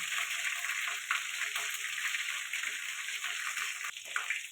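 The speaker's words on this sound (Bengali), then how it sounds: "ওই তেলে ফোড়ন দিয়ে দেবো লবঙ্গ," Whole cloves and cardamom pods tempering in hot oil left over from frying chicken, giving a steady, dense sizzle with small crackles and pops, close and continuous throughout.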